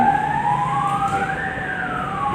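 Ambulance siren passing by outdoors, a loud wailing tone sweeping up and down continuously with traffic rumble beneath, heard alone without talk.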